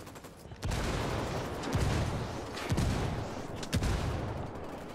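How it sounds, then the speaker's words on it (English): Mortar and gunfire in the video game Ghost Recon Wildlands: several heavy blasts land over a sustained roar of battle, with impacts spaced about a second apart. "I called the rebels for mortar fire."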